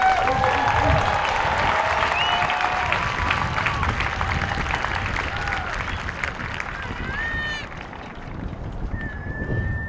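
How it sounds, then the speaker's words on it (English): Crowd applause rings out for newly graduated Airmen and Guardians at an Air Force basic military training graduation ceremony, loud, dense and sustained throughout, with cheers and whistles rising over the clapping. "How about a round of applause for them,"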